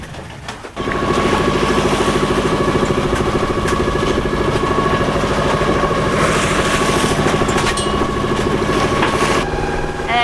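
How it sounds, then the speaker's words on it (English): A sailing boat's engine starts and runs steadily on passage across the Gulf of Carpentaria, a loud, close mechanical drone with a constant hum that holds nearly unbroken after a brief start, with no talk over it. "We're just going to turn the engine on and cheat and get to our anchorage"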